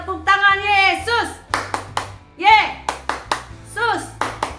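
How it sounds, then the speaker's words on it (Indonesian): Sharp hand claps land in a bouncy rhythm during a children's online worship service, close and loud, interleaved with a lively voice chanting and singing along between the beats. "Tepuk tangan Yesus."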